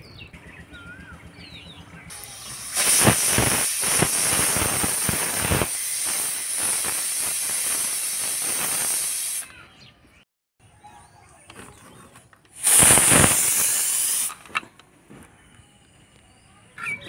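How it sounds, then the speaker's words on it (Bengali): A pressure cooker boiling cut potatoes in a village kitchen lets out a long loud steam whistle with rushing hiss for about seven seconds, then after a pause a second shorter hissing blast; no one speaks. "একটা সিটি দিয়েই নামিয়ে নেব।"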